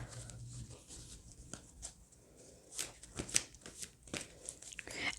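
Oracle cards are shuffled by hand in a quiet room, giving soft papery riffles and slaps in uneven bursts, with a few sharper flicks toward the end and no talking.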